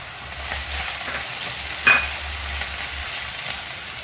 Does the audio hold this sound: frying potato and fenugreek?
yes